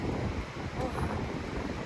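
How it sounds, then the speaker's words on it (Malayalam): Cold wind blows across an open spot in Zagreb, Croatia, a steady low rushing roar buffeting the microphone throughout. "ഓ, നല്ല തണുത്ത കാറ്റും അടിപൊളിയായിട്ട്."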